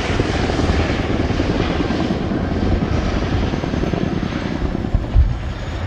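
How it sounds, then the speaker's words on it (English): A Royal Air Force Chinook HC.6A helicopter roars loudly and steadily during a flying display at RIAT 2019, heavy rotor thudding and engine noise filling the air. "how manoeuvrable this extremely large helicopter is"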